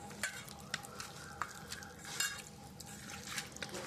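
Mutton being mixed by hand with ground spices and masala paste, a soft, wet squelching and stirring that comes close by in irregular bursts, with a few sharper slaps and no talk.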